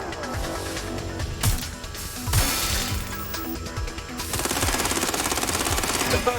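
Gunfire rattles in the video game Watch Dogs Legion: several sharp bursts and crashes, then a rapid, evenly spaced automatic volley in the final seconds, loud and close within a busy game mix.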